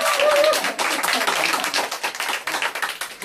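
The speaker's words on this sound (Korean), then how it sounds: "다 맞으면 박수 한번" An audience in a skincare lecture claps together, a dense, loud burst of many hands that keeps going without a break and fills the room.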